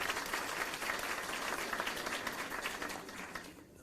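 Audience applause in a university hall at a debate between Salahaddin University and Erbil Polytechnic University, honoring Dr. Sirwan; steady dense clapping throughout, fading slightly at the end.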